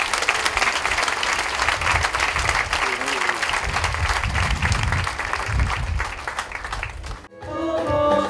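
Loud, steady applause from a church congregation honouring new altar servers at the Saint-Mathias parish, many hands clapping together with crowd murmur underneath before a brief break and the start of music.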